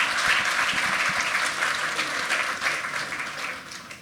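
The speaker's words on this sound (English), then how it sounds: "Give yourself a round of applause." An awards ceremony audience at the 2019 Hackaday Prize breaks into dense, continuous applause, a broad wash of many hands that holds steady and then begins to fade near the end.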